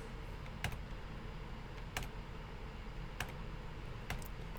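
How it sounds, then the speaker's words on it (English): Backslash and other keys are tapped on a computer keyboard, giving about four faint, sparse clicks in an otherwise quiet room. "So if we hit the backslash key on our keyboard"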